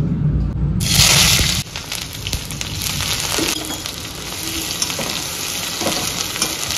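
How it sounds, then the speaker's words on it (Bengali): Onions dropped into hot oil burst into a loud, crackling sizzle that settles into a steady close frying hiss with small pops, preceded by a brief low rumble. "তেল গরম হয়ে গেছে, এইদিকে দেখুন বিদ্যুৎ চমকাচ্ছে, বৃষ্টিও আসবে মনে হয়। এখন আমি পেঁয়াজগুলো দিয়ে দিচ্ছি।"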